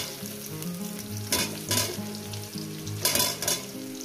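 Pieces of pointed gourd fry in a hot pan, giving a steady close sizzle. A couple of louder bursts of stirring and pan scraping rise above it, with no one talking.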